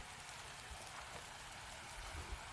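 Steady broadband hiss of rain falling across a farm pasture, heard from under a tree, continuous and fairly soft with no voices over it.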